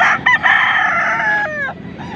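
A Roundhead gamecock stag crows once nearby, a loud clear cock-a-doodle-doo with a rising then falling tail, preceded by a couple of short clucks, no voices over it.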